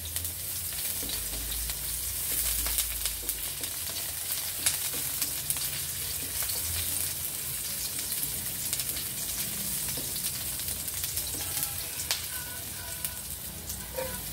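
Garlic sautéing in a pan for a mussel lunch dish, a steady close sizzle and crackle with occasional stirring scrapes throughout.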